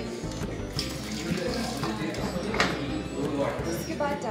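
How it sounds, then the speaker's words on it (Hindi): Boiled water runs and splashes steadily into a vessel at close range while making Ladakhi butter tea in Ladakh, with clinks and background chatter beneath it. "डालेंगे उबला हुआ पानी"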